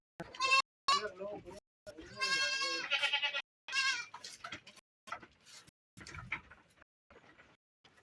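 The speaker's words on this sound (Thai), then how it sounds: "นี่เป็นคอกแพะ" Goats bleat repeatedly in a raised-floor goat pen, loud nearby wavering calls overlapping in quick succession, with someone talking among them.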